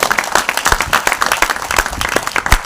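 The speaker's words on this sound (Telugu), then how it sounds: "పట్టండి గట్టిగా చప్పట్లు" Loud, close applause from a gathered audience, many hands clapping in a dense, slightly rhythmic stream of sharp claps that runs steadily for under three seconds.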